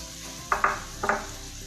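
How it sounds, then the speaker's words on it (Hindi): Chopped onion goes into keema frying in a pan, with two pairs of quick scraping clinks from the spoon over a steady low sizzle. "अब इसके अंदर जो प्याज चॉप करके रखा था ये शामिल करेंगे"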